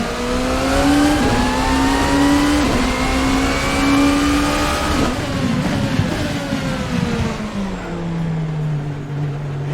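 Hypercar in a racing video game on the Daytona 24 Hour circuit, its engine droning loudly and steadily throughout, pitch climbing with gear changes and acceleration, with no talking over it.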